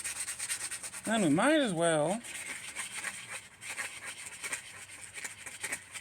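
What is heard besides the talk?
scraping a sticker off a copper pipe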